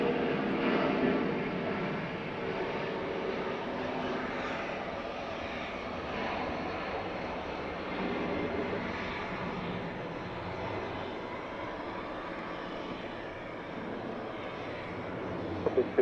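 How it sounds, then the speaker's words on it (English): Delta flight 1232, a 757 jet, departing Atlanta airport at night, heard as a steady distant engine roar that holds level for the whole span, with no talk over it. "Headed out there was Delta 1232"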